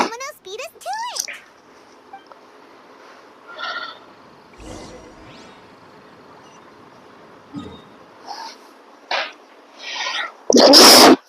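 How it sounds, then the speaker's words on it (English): Several sharp sneezes come in quick bursts, including a loud one near the end, with brief talk and game sound between them during a Genshin Impact play session. "I'm sneezing a lot today."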